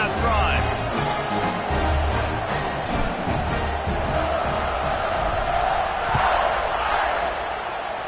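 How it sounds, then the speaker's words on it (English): A football stadium crowd in the NCAA 26 video game roars and cheers steadily as a kickoff unit takes the field, a broad, loud wash with a commentator's voice talking over it. "this crowd is feeling themselves after that last drive"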